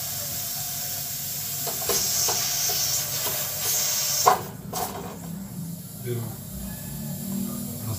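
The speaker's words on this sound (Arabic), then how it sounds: "الكوكوط عندي كتصفر" A pressure cooker on a home kitchen stove whistles and hisses steam in a steady, continuous rush, with brief bursts and clatter in the middle, while a voice talks over it.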